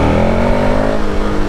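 A 2021 KTM Super Adventure S motorcycle engine revs hard through a wheelie, a loud, close, sustained droning roar that holds a steady pitch before easing slightly.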